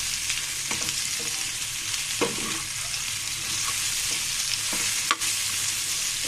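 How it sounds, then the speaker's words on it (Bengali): Pieces of pointed gourd fry in hot oil with a steady, broad sizzle, broken by a few scraping knocks of a spoon stirring the pan; no voices. "আবারও আমি নেড়ে চেড়ে ভেজে নিচ্ছি বন্ধুরা"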